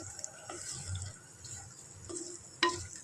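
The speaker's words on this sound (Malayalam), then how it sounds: "അപ്പോൾ ഇതാ നന്നായിട്ടൊന്ന് ഇളക്കി കൊടുക്കുകയാണേ." Soybean curry stirred in a cooking pot: soft scraping and clinking with light liquid sounds, ending in one sharper clatter near the end, with no talking.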